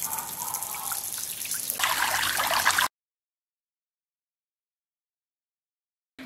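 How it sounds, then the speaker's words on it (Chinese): Water trickles and dribbles out of a pig lung being cleaned, a close, wet splashing for about three seconds that grows a little stronger before it stops abruptly. "用牙签子的把里边的水放出来。"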